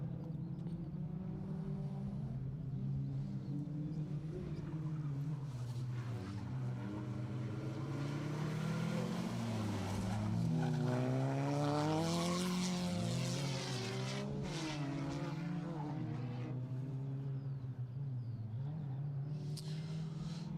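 Rally cars race along a special stage of the SMC Stages Rally, a Protyre Circuit Rally Championship round, with a Nissan Micra among the last runners; a continuous engine drone rises and falls in pitch as a car passes at moderate distance.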